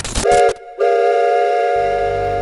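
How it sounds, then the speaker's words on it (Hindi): A train horn blows a loud, steady whistle tone that breaks briefly and then holds, with the low rumble of a running train joining beneath it near the end. "लाखों लोग ट्रेनों में भरकर निकलते हैं"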